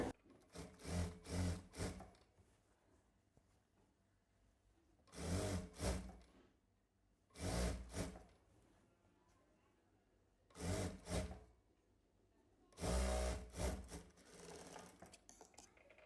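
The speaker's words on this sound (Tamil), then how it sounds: "இந்த மாதிரி வந்து நான் தையல் போட்டுக்கிட்டு வரேன்." An electric sewing machine stitching pieces of frock fabric runs in five short bursts of rapid whirring, separated by quiet pauses.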